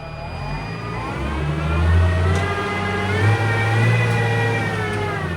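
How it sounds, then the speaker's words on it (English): A tractor drives back and forth in its lowest gear while feeding, its engine a steady close drone that swells and eases as it shifts direction, with no talking. "Driving back and forward saves the clutch. In the lowest gear, obviously."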